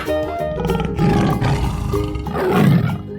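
A tiger roars in a 3D animal slide game: a loud, rough, sustained roar that swells twice over a dense, continuous background, with no talking.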